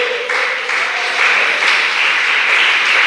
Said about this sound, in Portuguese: Desocupa tuas mãos e batam palmas para o Senhor.